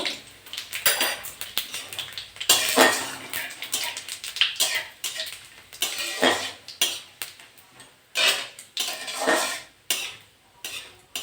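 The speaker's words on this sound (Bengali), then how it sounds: "গোটা জিরে, শুকনো লঙ্কা, গরম মশলা, গোটা গরম মশলা, দারচিনি, লবঙ্গ, এলাচ দিয়ে দেবো, তেজপাতা দিয়ে দেবো। এটা ভেজে নেব।" Whole cumin, dry red chillies, cinnamon, cloves, cardamom and bay leaf frying in a pan, heard as busy close clatter and scraping of a utensil against the pan in irregular bursts over a faint sizzle, without speech.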